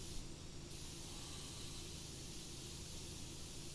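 A pressure washer nozzle sprays in PowerWash Simulator, a continuous broad hissing rush of water that holds steady and loud throughout with no talk.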